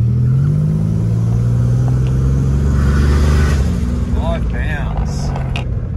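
Turbocharged Ecotec-engined car on a test run, engine rumbling and building steadily as it accelerates, loud and close throughout, with a brief whistle-like rise near the end.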